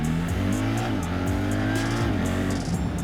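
A BMW R1300GS motorcycle engine revs hard on the road, rising and shifting through gears with a loud, close drone and several stepped pitch changes over a few seconds.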